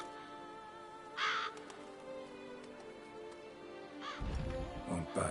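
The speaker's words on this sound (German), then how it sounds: "Vögelchen." Crows caw in The Witcher 3: Blood and Wine, one harsh call early and another a few seconds later, over a low ambient hum with louder rustling toward the end.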